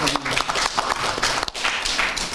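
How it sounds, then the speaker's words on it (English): Applause from attendees at a joint Majority and Minority parliamentary press conference, a fairly loud burst of many hands clapping with a brief dip midway and voices mixed in. "Round of applause, bigger one, please."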